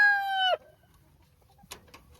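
Chickens near a backyard coop give a short loud squawk, then brief soft clucks follow after a pause, close by with no talking.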